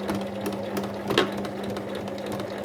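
A sewing machine stitches around the edge of an apron's fabric, its needle chattering in a quick, even rhythm at close range, fairly quiet and alone.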